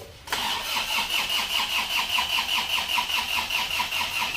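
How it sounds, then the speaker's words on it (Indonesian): An Isuzu Panther Euro 2 diesel engine, worn and burning oil, cranks and catches, then settles into a loud, steady, rhythmically pulsing diesel idle close by. "Kita starter. Yo, starter yuk."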